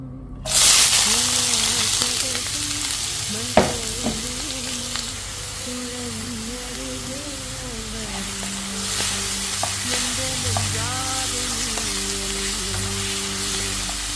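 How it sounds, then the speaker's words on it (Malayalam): Onions sautéing in a hot pan for a beef sandwich, a steady close sizzle with occasional stirring scrapes and a sharp utensil knock near the start, with music playing underneath throughout. "ഇനി നമുക്ക് പാൻ അടുപ്പത്ത് വെച്ച് നമുക്ക് എടുത്തു വെച്ച സവാളയും എല്ലാം ഒന്ന് വാട്ടിയെടുക്കാം"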